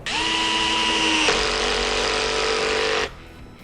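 Dnipro-M CD 12Q cordless drill with its clutch on the first setting, driving a furniture screw: a loud, steady whirring motor whine that shifts pitch once midway, then stops abruptly.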